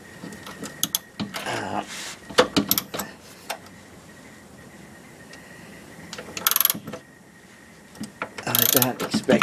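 Ratchet wrench removing the bolts holding the subframe of a Triumph 2500 MK I, with bursts of close clicking ratcheting and metallic clanks separated by quiet gaps.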